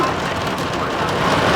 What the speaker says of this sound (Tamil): இப்படி மழை பெய்யறதால